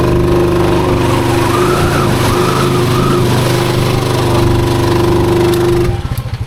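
Can-Am ATV engine revving hard and steadily while stuck in deep mud, a loud sustained whine with harmonic drone that drops off abruptly near the end.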